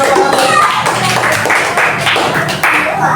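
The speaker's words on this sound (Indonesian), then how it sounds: "Beri tepuk tangan untuk Adi ke depan." A classroom of students claps for a classmate called to the front, a brief flurry of close hand claps mixed with young voices.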